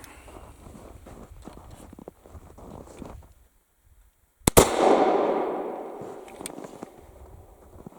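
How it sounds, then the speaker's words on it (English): A 253-year-old M1766 gun fires a single sharp, loud shot after a brief silence, its blast trailing into a long rumbling echo that fades over several seconds amid faint outdoor shuffling. "that was first shot in 130 years or more"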